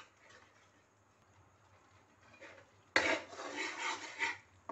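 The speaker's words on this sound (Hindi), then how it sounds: "बेसन जो है हल्की आंच पे भून रहा है" Gram flour roasts in a pan on a low flame, with a near burst of scraping and stirring that swells and fades over about a second and a half after a quiet stretch.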